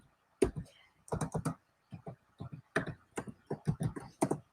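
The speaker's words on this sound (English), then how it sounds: "I'm going to type in the chat." Computer keyboard being typed on in short bursts of close, crisp key taps, with brief pauses between clusters, fairly quiet and with no talking.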